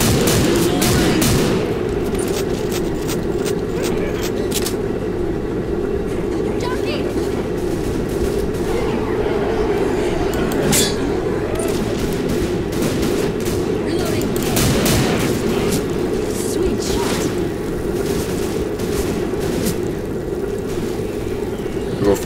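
Continuous gunfire and shooting in the Left 4 Dead 2 zombie game, a steady loud barrage of shots with rumbling background, while players talk throughout.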